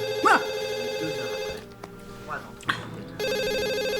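A home telephone rings with a steady electronic tone that pauses while voices talk briefly, then resumes.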